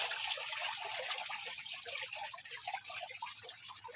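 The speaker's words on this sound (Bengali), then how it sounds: "এখন সহদেবদা জালে জল দিচ্ছে" Water splashes and gushes steadily onto a fishing net on a boat on the Ganges, a continuous close, fairly soft rushing and trickling sound with no talk.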